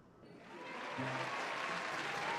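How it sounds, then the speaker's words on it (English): Crowd at a party in the video game The Letter cheering and clapping, with applause swelling from moderate to a steady, dense roar that continues to the end. "Amidst the cheers and claps"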